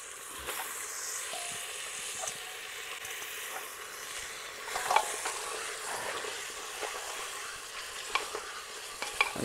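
Mutton pieces dropped into a pan of sizzling masala for a goat head curry, with a steady faint frying hiss and scattered clicks of stirring throughout.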